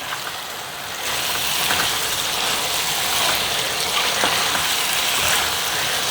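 Masala with curry leaves frying in a pan, giving a steady, fairly loud sizzle with bubbling crackle that holds evenly throughout with no talking.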